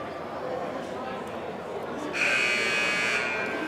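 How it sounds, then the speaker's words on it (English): A basketball arena buzzer at a high school game sounds in a long, loud, steady electronic blare that starts partway through and holds to the end, over crowd murmur. "And the buzzer sounds."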